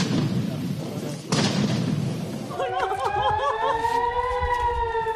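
Explosions from a bombardment in Israel roll as dense, rumbling bursts and thuds, loud and close, before a wailing air-raid siren rises over the din, with a voice speaking throughout.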